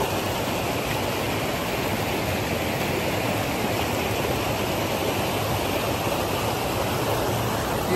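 River water rushing beneath a hanging bridge, a loud, steady, unbroken roar of flowing current close by, with no talking.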